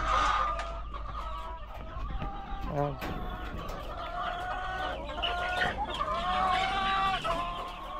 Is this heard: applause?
no